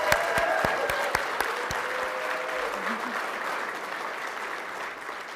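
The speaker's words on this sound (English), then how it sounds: "Let's give her one more big round of applause." Audience at a lacrosse Hall of Fame induction ceremony breaking into applause, dense clapping that holds steady then gradually thins, with a few sharp claps standing out near the start.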